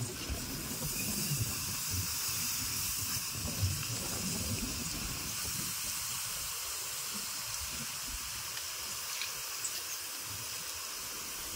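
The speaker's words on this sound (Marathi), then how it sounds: "म्हणजे आग विझवून घेऊ." Steady broad hissing and sizzling of a campfire being doused with water, continuing throughout with a faint gurgle underneath and no voices.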